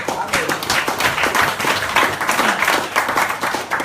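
A church congregation claps together in steady, dense applause, close and fairly loud, sustained throughout with a faint voice mixed in.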